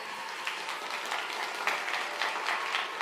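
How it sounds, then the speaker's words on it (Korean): Church congregation applause during a sermon, a soft, even wash of clapping heard from a distance, steady throughout without talk. "박수 한번 쳐주시겠어요?"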